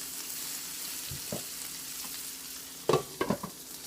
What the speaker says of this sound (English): Hopefully the pork chop will just carry over.